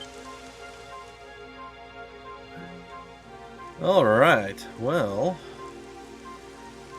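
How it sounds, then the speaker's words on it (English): Steady rain patters on surfaces in the video game Dragon Quest XI, a constant hiss beneath a voice that speaks briefly over it. "It would have to go and start raining, wouldn't it?"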